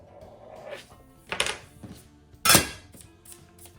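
A knife cuts through a slab of gluten-free ravioli dough on a board, giving two distinct dull thunks about a second apart with light clinks between, close and otherwise quiet.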